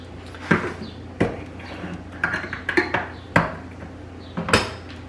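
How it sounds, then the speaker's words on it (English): A can of tomato sauce is handled in a kitchen while Puerto Rican rice with pigeon peas is made, giving several sharp metallic clinks and knocks spaced irregularly, fairly close, with small rattles between them and no talk. "So then you're gonna take your can of tomato sauce."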